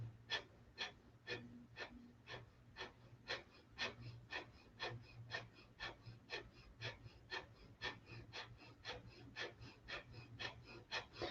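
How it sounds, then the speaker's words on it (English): Breath of fire: rapid rhythmic yogic exhalations pumped from the belly, about two sharp nasal puffs per second, close and quiet, continuing evenly throughout. "So you start like this just to understand the mechanics of breath of fire."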